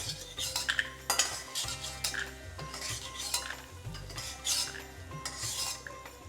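Repeated scraping and clattering of a spoon stirring dry peanuts in a metal pan, rhythmic and close, over a low steady hum.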